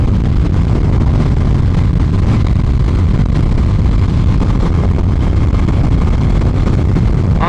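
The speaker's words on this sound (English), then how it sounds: "cruising at 100 mile an hour on our little Daytona 660" A Triumph Daytona 660 motorcycle cruises at 100 mph, a loud, steady roar of engine drone blended with heavy wind rush, unbroken and close with no talk.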